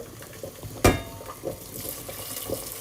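Water is poured into a cooking pot in a home kitchen. A quick splash is followed by softer sloshing and trickling, close and moderately quiet.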